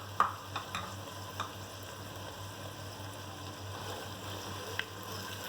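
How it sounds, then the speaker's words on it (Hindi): Cumin seeds, white and black, fry in oil in a pan over a medium flame, giving a steady faint sizzle with a few light ticks and pops near the start and one near the end. "थोड़ा फ्राई करेंगे।"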